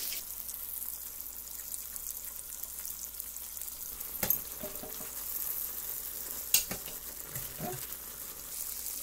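Lobster tail mushrooms fry in melted butter with spices, giving a steady close sizzle with a couple of brief clatters from stirring or utensils and no talk.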